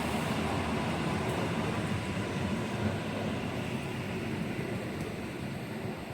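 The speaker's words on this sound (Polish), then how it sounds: "Pociąg rusza w stronę Katowic." Train pulling out of a station built in 1846, heading toward Katowice, a broad, continuous rumble heard nearby and without voices.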